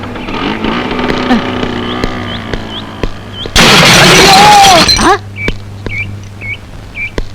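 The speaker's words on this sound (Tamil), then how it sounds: "இப்ப ஸ்கூட்டர்ல போனானே அவன் ஆக்சிடென்ட் ஆகி செத்து போயிட்டான்" A motor hums under whistling tones, then a loud, harsh burst of noise erupts for over a second as a scooter crashes, before quieter sounds resume.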